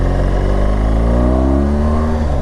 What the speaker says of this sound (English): But man, I got a car coming.